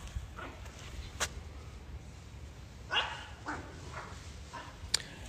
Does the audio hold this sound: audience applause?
no